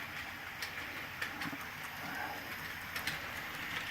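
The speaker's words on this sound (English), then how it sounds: "Comes the train." A model train runs along a model railroad layout, a soft, steady rolling rumble with light, irregular clicks and ticks from the track, fairly quiet throughout.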